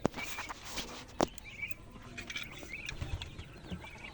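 Chickens and other fowl cluck and call on a small farm at feeding time, scattered close and distant bird sounds over a steady outdoor background, with a sharp knock near the start.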